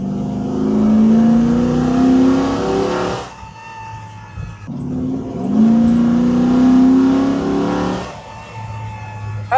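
A 5-liter Coyote V8 in a 1979 Ford Bronco restomod revs up hard twice, each rising roar holding for a few seconds before dropping back to a burbling idle, loud and close.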